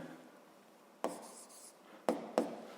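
Pen writing by hand on paper while notes for a physics problem are taken down, a soft continuous scratch with three sharper taps or strokes, close and quiet with no talking.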